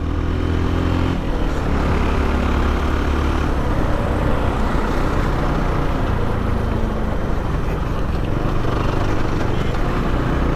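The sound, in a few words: FB Mondial HPS 300 motorcycle engine while riding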